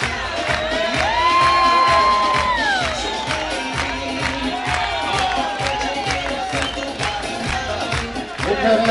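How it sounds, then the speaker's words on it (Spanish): A large crowd cheers and applauds a 71-year-old athlete at a South American masters championship, with steady loud clapping under rising whoops and shouts that swell and continue throughout. "su familia, todos de la parte posterior, les está aplaudiendo"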